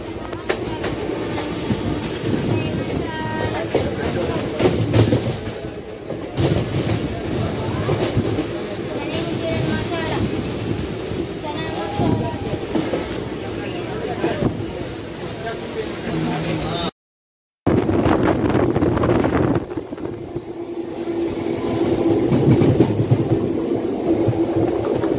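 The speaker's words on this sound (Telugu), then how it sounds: "మన ట్రైన్ అయితే ప్లాట్ఫామ్ నెంబర్ 3 పైకి వచ్చిందంటే" The Sabari Express, a long-distance passenger train, rolls into a junction station platform with a continuous loud rumble and rattling of wagons, a brief dropout midway, and people talking over the noise.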